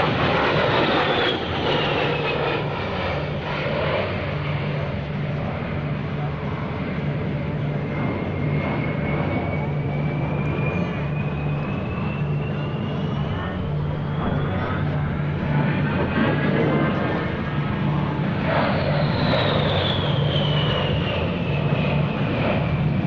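An A-10 Thunderbolt II jet roars through a tight level 360-degree turn at an air show demonstration, its engine whine rising and falling in pitch as it sweeps past, loud and sustained over the crowd.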